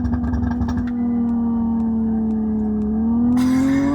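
A Hyundai Ioniq 6 N electric car launches hard under launch control, its synthesized drive note holding a steady pitch and then climbing as it accelerates. A few faint clicks sit under the tone near the start.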